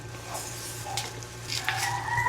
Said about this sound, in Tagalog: Dandahan lang halo kasi malambot na.